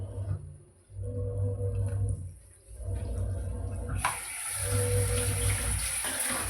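Water runs and splashes steadily into a cooking pan of chow chow side dish, growing louder and brighter partway through, with a low hum underneath and no talking.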